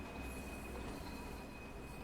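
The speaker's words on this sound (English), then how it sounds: "This train is powered by an LMS Class 4F steam locomotive." In the Train Sim World game, on the Peak Forest Railway, a train hauled by an LMS Class 4F steam locomotive rolls along with a steady rumble and a continuous high wheel squeal, constant and unbroken for a couple of seconds.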